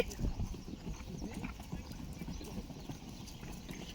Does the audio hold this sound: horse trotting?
yes